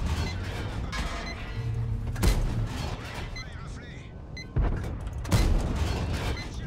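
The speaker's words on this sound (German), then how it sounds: "Das waren zwei Schuss auf dem E5." Tank cannon shots in World of Tanks, with an AMX 50B firing on an E5: two sharp booming blasts a few seconds apart, each followed by mechanical reload sounds, over steady game engine rumble.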